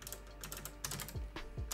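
Keys on a computer keyboard clatter in short, uneven bursts at close range, soft and alone with no speech.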